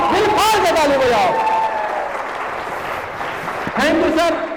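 An audience at a motivational business leadership event breaks into broad applause, a steady crowd clapping that swells in the middle, while someone speaks loudly into a microphone at the start and end.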